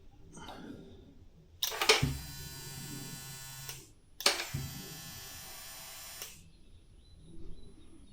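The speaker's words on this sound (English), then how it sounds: "This should prime the fuel pump." An electric fuel pump on a 1957 Chevy 3100 pickup with an LS swap primes from a can of gas, buzzing in two loud whirring bursts of a few seconds each, with faint clicks around them.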